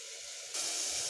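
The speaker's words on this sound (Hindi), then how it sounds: "और इसे मैं मसाले को अच्छे से भून लूंगी थोड़ा सा।" Red chili powder and rock salt roast in a hot pan, giving a steady hiss and sizzle that grows louder midway, close and without talk.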